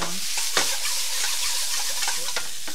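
Steady loud sizzling of vegetables and potatoes frying in a pan for vegetable biryani, with occasional stirring scrapes and clicks.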